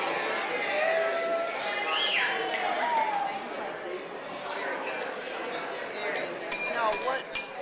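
Glasses clinking repeatedly during a wedding toast, light chimes and taps amid a murmuring crowd and chatter at a reception, with a few sharper clinks near the end.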